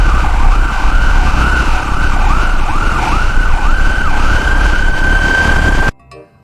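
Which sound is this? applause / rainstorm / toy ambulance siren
toy ambulance siren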